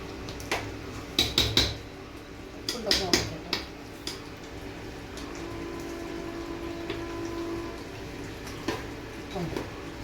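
Cooked meat and tapioca are stirred in a pressure cooker, with a few clusters of metallic scraping and clinks against a quiet, steady background hum.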